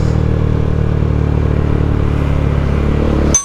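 A Yamaha PW50 pocket bike engine running steadily, a loud, close, buzzing small-engine drone at constant speed that cuts off abruptly at the end.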